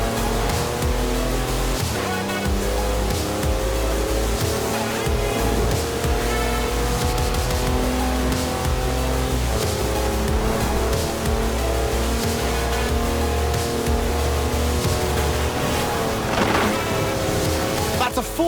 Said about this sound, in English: That's a 4-wheel drive car on mud tyres completely sideways.